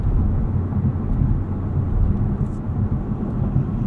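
A 2020 Toyota Avalon TRD travels over a bumpy road with harsh impacts, producing a loud, steady low cabin rumble of road and tire noise throughout, no voices.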